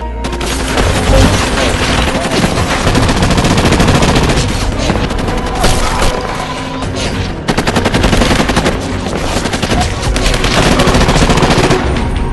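Dense gunfire from an action film battle scene with US Marines under attack, loud rapid bursts of automatic fire and shots layered together, nearly continuous with brief lulls.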